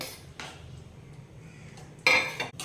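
Cooked moong dal is mixed into bottle gourd in a pan, with a few sharp metallic clinks and scrapes of a spoon against the pan, separated by quiet pauses and heard close up.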